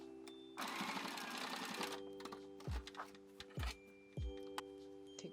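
A sewing machine stitching fabric runs in a quick, fairly quiet burst, then gives a few soft mechanical thumps and clicks as it stops and starts again.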